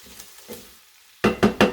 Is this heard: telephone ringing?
no